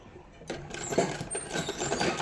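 Sewing machine stitching cotton fabric for a boy's night suit shirt, a close, continuous mechanical whirr that starts abruptly and runs steadily to the end.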